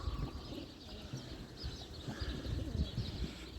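Racing pigeons coo at the loft, soft repeated low cooing close by over a steady murmur of birds, with faint chirps and a brief flutter of wings.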